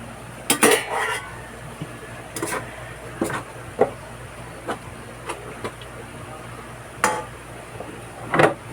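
A metal lid clanks onto a cooking pot in a home kitchen, several sharp clinks and knocks spread irregularly over a low steady hum, close by with no talk.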